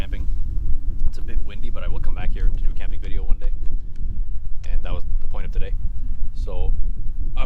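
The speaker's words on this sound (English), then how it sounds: "It's a bit windy" Gusty wind buffets the microphone at an exposed off-trail camping spot on a day hike, a loud steady rumble running under a person talking throughout.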